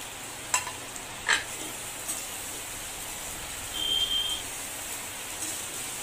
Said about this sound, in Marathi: कांदा नरम झाल्यावर यामध्ये चिरून घेतलेली मिरची घालून परतवून घेऊया।